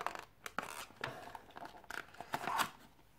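A Cubot Note Plus phone box is opened up close with a run of crisp tearing, scratching and crinkling noises, irregular bursts that grow louder toward the end, with no talk.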